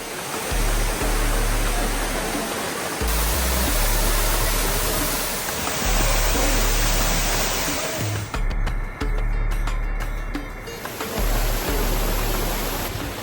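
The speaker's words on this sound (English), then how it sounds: "that was a lovely visit up to the waterfalls at Imlil" Waterfalls at Imlil in Morocco roar as a loud, unbroken wash of rushing water heard close up, with a low rumbling undertone and steady intensity throughout.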